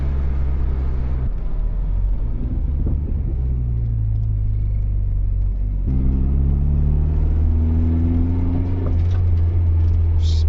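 A turbocharged Ford Capri accelerates hard and loud, its engine note climbing in first, dropping briefly at a power shift, then rising again through second with strong low rumble.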